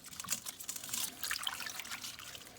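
Water trickles and splashes faintly while leeks are rinsed clean of grit for potato leek soup, with soft intermittent pouring from a tap.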